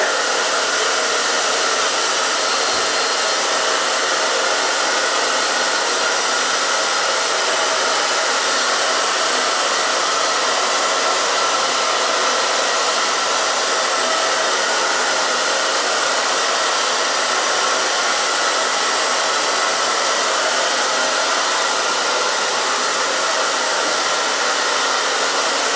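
A hair dryer blows steadily and loudly at close range, a constant airy whine that continues without a break.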